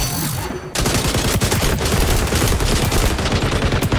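Sustained LMG fire in the shooter game XDefiant, loud rapid bursts with dense overlapping shots after a brief sharp opening, continuing close up without pause.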